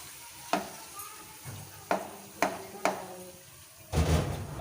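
Mashed boiled potato is worked into a hot pan for an aloo paratha filling. A spoon knocks and scrapes against the pan in four sharp strikes, then a longer scrape, over a soft sizzle with no talk.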